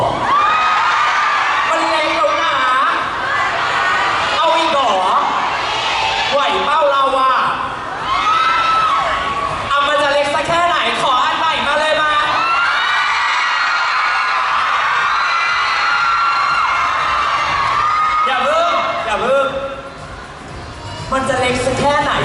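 A crowd at a TikTok Shop 11.11 sale event whoops, cheers and shouts continuously and loudly, with children's voices among them, a brief dip, and a host talking over the noise.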